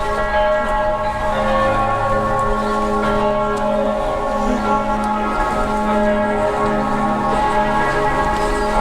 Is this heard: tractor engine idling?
no